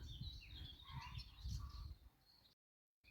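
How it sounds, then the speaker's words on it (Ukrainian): Soft repeated pigeon coos with other birds chirping faintly outdoors, a low pulsing call, then a brief cut to silence. "Голуб бідний надривається, старається."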